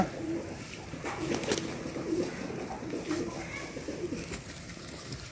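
Lakkha and Feedback breed pigeons cooing nearby, soft repeated low coos over a rustling, faintly noisy background.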